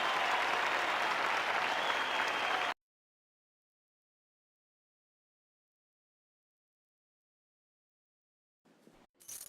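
A stadium crowd applauds in the martial-arts game Jade Empire, a loud, dense roar of clapping for nearly three seconds that cuts off abruptly into silence before faint sounds return near the end.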